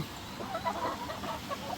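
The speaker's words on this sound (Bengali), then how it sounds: "সুস্থ সবল মোরগ মুরগি দেখেন এই যে মুরগিগুলা" Laying hens and roosters of a tiger breed give faint, soft clucks on a farm, a few short calls over a low background.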